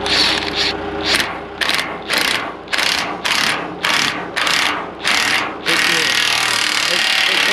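A socket wrench ratchets in a series of rapid, loud bursts with short pauses between strokes while bolting up an old boom, and people talk alongside.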